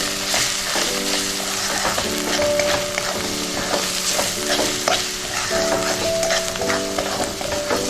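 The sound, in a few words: roasting chole masala with red chilli in a pan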